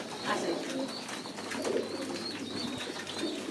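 Pigeons on a pigeon farm coo softly and repeatedly, with a few calls overlapping in a steady, nearby chorus and no talk.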